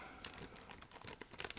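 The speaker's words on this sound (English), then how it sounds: "I'm opening the plastic bag with brochures" A plastic bag holding brochures from a Tamiya 1/48 F-35C Lightning II model kit is opened, producing faint, close crinkling and rustling with small irregular crackles throughout.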